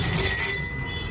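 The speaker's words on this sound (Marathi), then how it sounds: "घंटी पण लावले" A bicycle bell rings with quick metallic trills at the start, then its bright tone fades and decays.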